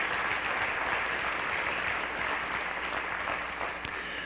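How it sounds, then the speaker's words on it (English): Sustained applause from an audience at a high school senior honors night, a steady dense patter of clapping throughout that eases slightly toward the end. "I'd like to get a round of applause for all those people"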